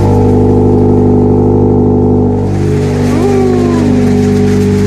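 A loud Ferrari engine idles with a steady rumble, then revs up and falls back, close by and continuous.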